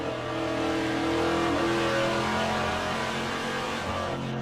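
A VK Commodore Group C touring car at Bathurst in rFactor2, engine revving hard and accelerating steadily, pitch climbing through a gear change, loud and continuous with no talk.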